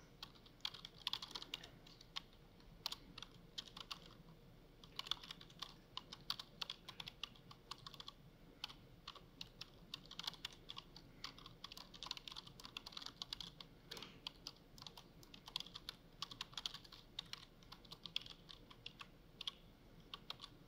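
Quiet, steady typing of code on a computer keyboard, with a continuous run of soft key clicks and occasional heavier presses, heard alone and fairly close.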